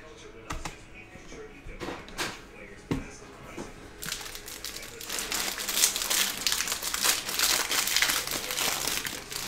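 Crinkling of a Bowman MLB jumbo baseball card pack wrapper being torn open, close and fairly loud, growing busier and denser halfway through with rapid crackling rips.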